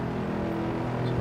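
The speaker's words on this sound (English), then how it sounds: "So we're in this Mercedes, sounds pretty nice, V8, pretty powerful." A Mercedes V8 road car in Assetto Corsa drones with a steady, deep engine note at moderate volume, holding constant revs through the brief moment.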